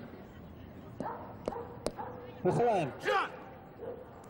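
Several barks and yips from a dog on a dog training ring in 1990s Moscow, one near and loud, around a spoken command.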